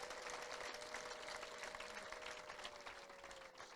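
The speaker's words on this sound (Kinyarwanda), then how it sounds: "Mu nkundire dukomere Imana amashyi" A congregation applauds during a church worship service, with sustained, even clapping filling the room and a faint held tone running beneath it.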